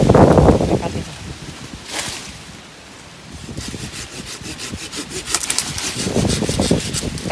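A hand saw cuts a branch on a three-year-old Booth avocado tree during pruning in Dak Nong. Close, loud rasping strokes come in bursts, go quiet for a moment midway, then resume steadily.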